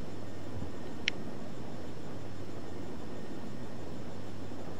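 A small jet aircraft flying in the game Saints Row 3 gives a steady, loud, broad engine roar that holds constant throughout, with one brief sharp click early on.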